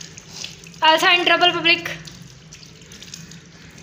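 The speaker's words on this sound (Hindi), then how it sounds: "पानी बंद कर दे गुनाह होता है पानी जाया करना।" A household tap runs with a soft, continuous hiss throughout, while a nearby voice talks loudly over it for about a second.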